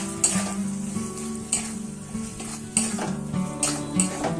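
Grated coconut and a spoonful of sugar are stirred into frying spice paste in a pan for banana blossom curry, a steady sizzle broken by repeated metal spoon clinks and scrapes against the pan, close and clear.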